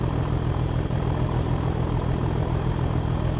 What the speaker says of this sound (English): So when you're on board, such as now, you know, you get the noise of the engine